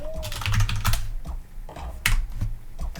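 Quick keystrokes on a computer keyboard while entering a console command in a game, close and fairly loud clicking in short irregular bursts with no talk.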